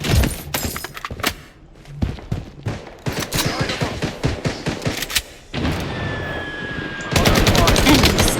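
Rapid bursts of RPK machine gun fire in the shooter game Blood Strike, loud close volleys separated by short pauses, with a dense continuous stretch of fire at the end and faint game effects between bursts.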